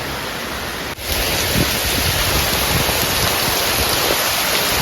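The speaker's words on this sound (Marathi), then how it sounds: "जोरदार आहे ना एकदम जोरदार पाऊस चालू झाला आहे बाहेर" Heavy rain driven by wind pounds outside a tent at a riverside camping spot, a dense, loud, unbroken roar of falling water that fills the whole stretch with no talking.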